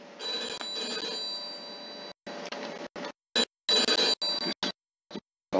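A telephone rings in the 1940s-era crime game Mafia II, loud bright electric bell bursts repeating in an uneven pattern of long and short rings separated by silent gaps.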